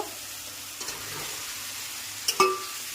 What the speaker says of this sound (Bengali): ডিমের কষাটা আমি রেডি করছি